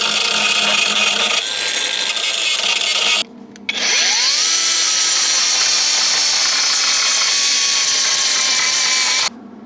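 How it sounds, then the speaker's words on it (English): An angle grinder grinds down welds on the drive shaft tunnel of a Saab 900 Turbo, a loud, continuous abrasive whine up close that drops out briefly midway before resuming and then cutting off. "Next up I'm going to grind the welds down and then re-weld the areas that I missed"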